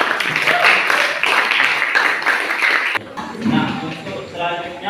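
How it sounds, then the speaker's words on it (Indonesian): Classroom applause for student groups, a few seconds of rapid claps from a room of children, stopping abruptly and followed by a quieter stretch with a voice speaking. "tepuk tangan untuk semua kelompok kita pada hari ini"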